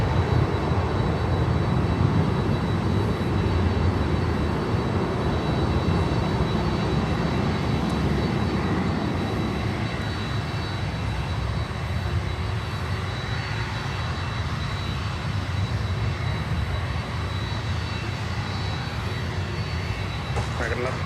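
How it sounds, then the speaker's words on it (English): An American Airlines Boeing 777-200 arrives from Los Angeles at Miami airport with a continuous loud, broad jet roar holding steady for about twenty seconds, with faint voices mixed in. "Next inbound is a 777-200 from Los Angeles, American Airlines"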